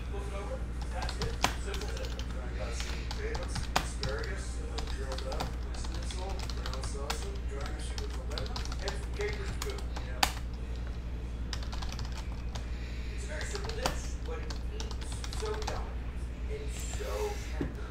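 Fingers type steadily on a computer keyboard at a baseball card case break, a close, continuous run of clicking keystrokes with occasional louder taps, over low background hum.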